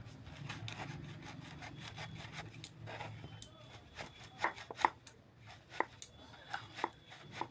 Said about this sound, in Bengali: এঁচোড়টা এবার মাঝখান থেকে আমি দু আধখানা করে নেব।